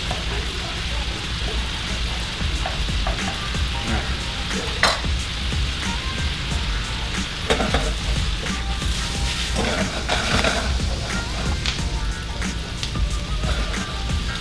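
Vegetables sautéing in a hot pan, a loud continuous frying sizzle close by with scattered stirring scrapes and clicks throughout, no talking.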